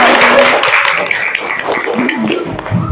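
A classroom of students claps their hands in a loose, scattered patter of overlapping claps, close and fairly loud, with some voices and chatter mixed in.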